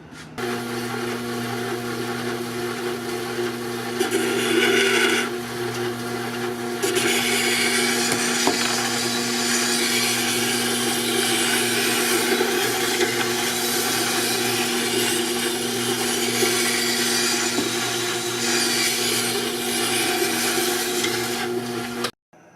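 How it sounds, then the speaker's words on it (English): A tool being sharpened on a Tormek DF 250 diamond wheel, a continuous close grinding and rubbing hum with a steady motor tone, lasting about twenty seconds without speech. "The next test is to actually sharpen something."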